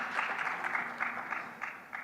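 Audience applause at a sustainability summit, a soft, fairly distant patter of clapping from a modest crowd that rises and falls in small bursts without stopping.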